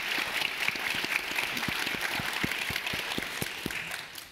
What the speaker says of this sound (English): So I'm going to give them just a round of applause.